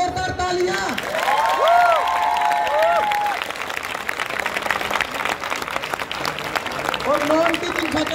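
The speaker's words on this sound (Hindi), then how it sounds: "एक बार फिर से जोरदार तालियां" Applause from a crowd at a protest gathering of professors, residents and students, continuous clapping that swells and fades over about eight seconds beneath a voice and some tonal noise.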